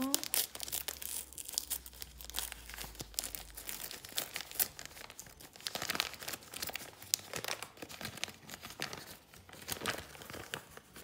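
Paper and plastic wrapping of an advent calendar package crinkle and tear loudly up close, in continuous rustling with sharper rips throughout.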